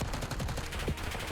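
Automatic gunfire rattles in a tactical shooter match, a rapid burst of shots that is loud and dense throughout a brief moment.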